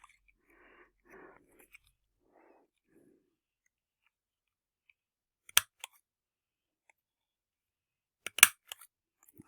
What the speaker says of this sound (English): we'll round the corner with my trusty rounder punch